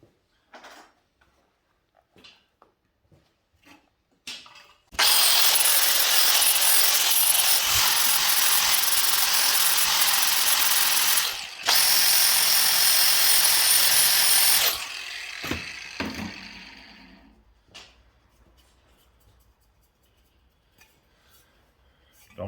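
Power tool grinding excess braze off a custom Norton Dominator motorcycle exhaust pipe, a loud harsh continuous grind of about ten seconds with one brief break, framed by quiet clinks and handling noises.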